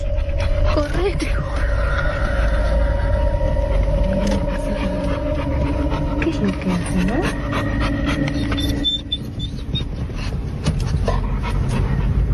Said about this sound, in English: The dog's like kind of freaking out.